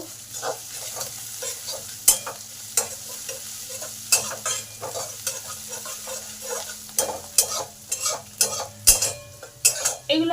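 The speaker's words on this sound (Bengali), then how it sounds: "আদাটা দিয়ে দিলাম আদাটাও ভালো করে ভেজে নেব" Ginger and spices fry in a pan with a steady low sizzle, punctuated by sharp, irregular scrapes and clinks of a utensil stirring against the metal, growing busier toward the end; no voices.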